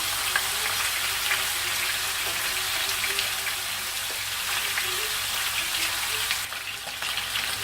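Chicken pieces frying in a pan to brown the skin, giving a steady, close, dense crackling sizzle with small pops throughout, no one talking.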